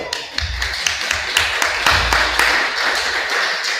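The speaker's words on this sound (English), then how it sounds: "Everybody give a round of applause." Audience clapping at a town hall gathering, a scattered round of applause with distinct claps, close and moderately loud, with some voices mixed in.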